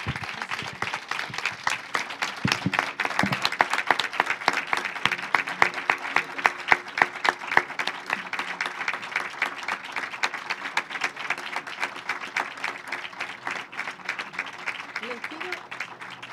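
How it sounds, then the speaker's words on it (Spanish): Sustained audience applause thanking a guest speaker at a science and technology talk in Argentina, dense steady clapping lasting throughout, with voices murmuring underneath. "simplemente con un aplauso agradecerle por su deferencia a estar con nosotros"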